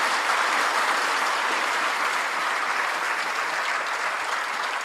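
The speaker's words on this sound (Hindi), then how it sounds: "तो इसलिए इनका एक बार जो है वो फिर अच्छे से तालियां बजा के जो है स्वागत करेंगे आप लोग।" A large audience applauds to welcome a speaker, a dense, steady roar of many hands clapping together that fills the whole stretch at an even level.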